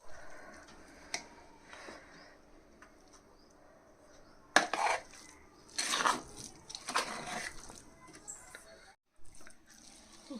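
Mushroom biryani made with everyday rice being mixed in a pot, giving a few scraping clatters of a spoon against the pot, mostly quiet with faint background between bursts.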